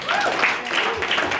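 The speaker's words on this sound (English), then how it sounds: "You're all applauding too soon." Comedy roast audience applause fills the whole stretch, a steady wash of clapping that holds at an even level with a faint voice mixed in underneath.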